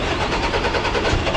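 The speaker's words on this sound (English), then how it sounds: "start the old engine up, donkey engine" Donkey engine on a lorry's concrete mixer unit, running as a loud, steady mid-pitched chug at close range with no voices.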